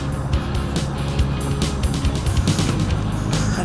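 A Mash 250 motorcycle engine runs steadily close by at a constant level, with a continuous rumbling drone and no talking.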